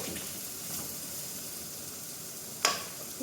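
Chopped onions sizzle steadily in a hot pan, cooking toward golden, with a constant close frying hiss and one sharp clatter near the end.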